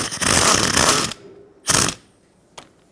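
A 10 mm socket ratchet backing bolts out under a Dodge Grand Caravan, with a loud burst of rapid clicking, then shorter ratchet bursts separated by pauses.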